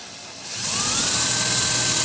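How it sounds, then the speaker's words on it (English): A power drill bores a hole through a pantry cabinet from below, its high whine rising after a brief quiet start and then holding steady and close for the rest of the moment. "I'm going to work from below and drill a hole basically at the corner here to feed in some power"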